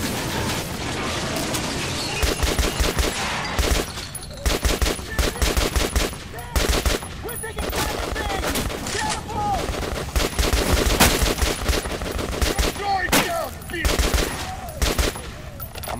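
AK rifle fire in the shooter game Metro Last Light, rapid loud bursts of automatic gunshots with short gaps between volleys, plus mechanical clicks and impacts.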